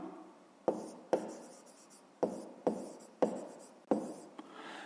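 A pen or pencil writing out a fifth-grade math exercise by hand on paper, close and dry: six separate scratchy bursts, each a quick stroke that fades, with short quiet gaps between.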